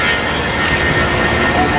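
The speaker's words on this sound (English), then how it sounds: "Those Airbus engines sound like shit." Steady roar of Airbus jet engines from an airliner taking off near Lindbergh Field, loud and continuous, with a faint voice underneath.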